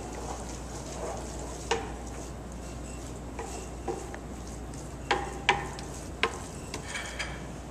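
A spoon stirring butternut squash bisque in a pot over low heat, with scattered sharp scrapes and clinks over a soft simmering hiss.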